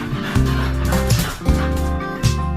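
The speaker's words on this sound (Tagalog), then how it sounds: "Mga aso na to ah." Several dogs outdoors in autumn wind barking and yipping in short bursts, loud and close, with whimpering between barks.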